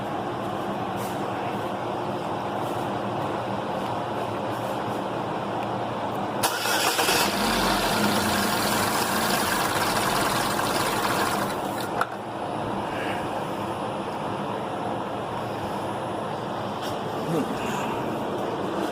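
A 2011 Chevy Equinox engine hums steadily, then a loud burst of cranking and running lasts about six seconds before it drops back to a quieter steady drone.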